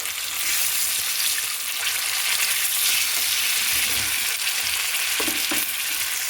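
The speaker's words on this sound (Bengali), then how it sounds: "দিয়ে হালকা করে মিডিয়াম আঁচে ভেজে নিতে হবে, তাহলে পুরোটাই কিন্তু একেবারে ক্রিস্পি ক্রিস্পি হবে।" A tiffin snack deep-frying in oil over medium heat, a steady dense crackling sizzle that fills the whole stretch, close and loud, with a few clinks of a utensil near the end and no talking.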